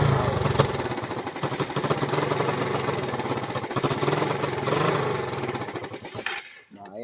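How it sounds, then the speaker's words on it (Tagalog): A loud, rough motorcycle engine runs close by with a raspy, rattling drone, then cuts out abruptly near the end. "Napakaingay ng motor ni sir. Daig pang helicopter."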